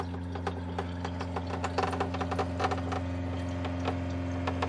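A SimPure Q3-600UV under-sink reverse osmosis water purifier with UV runs with a steady low mechanical hum and pump drone, overlaid by irregular faint ticking and clicking, fairly quiet and close.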